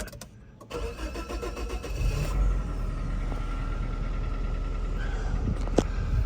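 A 1995 Geo Tracker engine cranks briefly, catches and settles into a steady close idle, a loud continuous mechanical hum with a faint click near the end.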